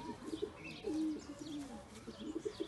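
Pigeons coo in soft, rolling calls, several low throaty phrases close by, with faint chirps and light rustling around them and no talk over the calls.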